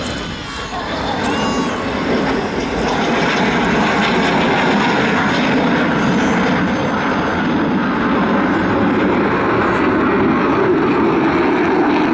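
A Vulcan bomber roars loudly and continuously overhead during an air show display at Southport, a broad, powerful rumble sustained throughout with no talking.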